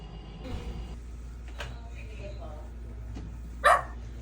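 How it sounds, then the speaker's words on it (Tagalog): A single sharp dog bark rings out near the end, preceded by a few fainter yelps, over a low steady hum. "Naku, tumatahol na yung aso."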